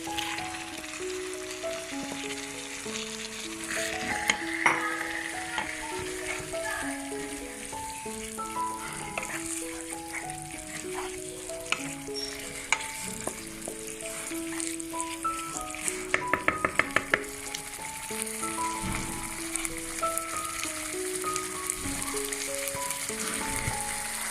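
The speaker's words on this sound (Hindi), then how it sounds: "अब मैं इसके अंदर चिलड़ी और प्याज फ्राई के लिए इसके अंदर शामिल कर दूँ।" Chicken frying in a pan with bitter gourd (karela) peels and onion added, giving a steady close sizzle and crackle throughout, with occasional metallic clinks of a utensil against the pan and no talking.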